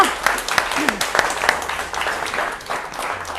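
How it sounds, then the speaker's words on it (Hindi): An audience in a TV studio breaks into loud, sustained applause, dense clapping that continues for a few seconds with voices faintly mixed in. "जोरदार तालियां।"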